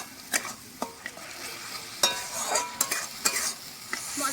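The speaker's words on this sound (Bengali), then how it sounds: "এবার টমেটো কুচানো দিয়ে কিছুক্ষণ কষিয়ে নেব।" Chopped tomatoes with salt and turmeric stir-fry in oil in a pan for a chop curry, giving a steady close sizzle broken by sharp scrapes and clinks of a spoon stirring, with no talking.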